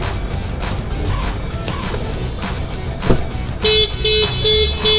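After some rustling and a thump, a 2025 Honda BR-V's alarm starts up with loud repeated electronic beeps in a regular pulsing pattern, close by.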